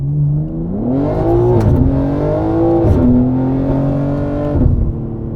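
BMW G80 M3 Competition tuned to 700 hp accelerating hard in second gear, a loud close engine roar climbing in pitch with boosted surges and brief shift-like dips, sustained throughout with no talk.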